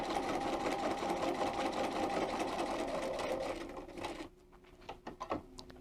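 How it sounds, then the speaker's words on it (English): A Bernina 802 sewing machine runs a seam with a loud, steady motor hum and rapid needle chatter. It stops abruptly near the end, followed by a few close mechanical clicks and handling sounds. "put my presser foot down, and I'm going to sew till I get to letter D."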